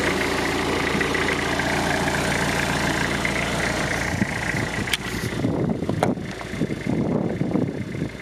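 Engine of a Landrunner build idling steadily and loudly at close range, then its tone roughens and shifts partway through as the machine is readied for its first drive; no talk.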